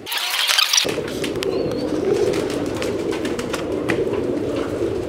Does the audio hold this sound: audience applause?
no